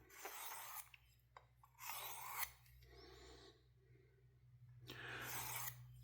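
Knife with CJRB AR-RPM9 steel being drawn across a Work Sharp field sharpener to refine the bevel, heard as close, rasping strokes in separate passes, with a low steady hum underneath.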